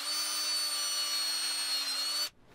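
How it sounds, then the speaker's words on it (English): A power drill boring a hole into the end of a piece of wood whines at a steady, high-pitched drone for about two seconds, then abruptly stops, leaving near silence. "I can drill a hole into one of the ends for a long screw."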